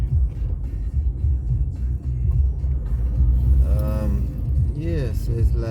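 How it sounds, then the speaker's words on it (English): Heavy road traffic rumbles all around in a steady low roar of many car engines close by, with passing vehicles and a rising horn-like tone near the end; people talk over it inside a car. "God, there's so much cars over here"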